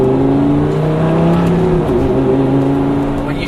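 A Lamborghini Gallardo with no mufflers revs hard on a night drive, giving a loud, close, continuous engine drone with strong steady tones that shift slightly in pitch.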